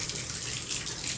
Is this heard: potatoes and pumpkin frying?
no